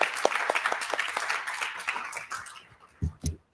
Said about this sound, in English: Let's give our artists a round of applause.